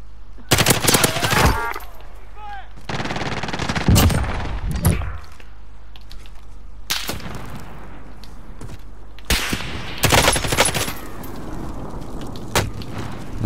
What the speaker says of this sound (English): Now I'm being shot from elsewhere.